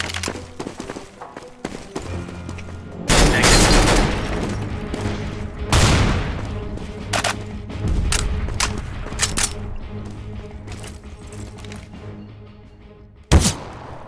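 Gunfire in Counter-Strike: Global Offensive on a wide-open map, with loud bursts of automatic fire, sharp single shots and booming impacts at varying distances, scattered across the clip with quieter gaps between volleys.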